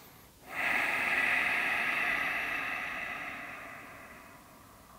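Slow, steady breath during a yin yoga pose lying on the back with feet on the floor, one long airy exhale fading gently over several seconds, close and soft with no talking.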